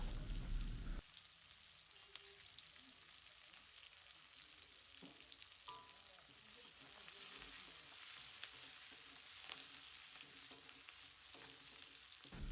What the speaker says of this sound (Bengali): এবার আমরা পেঁয়াজটাকে লাল লাল করে ভেজে নেব।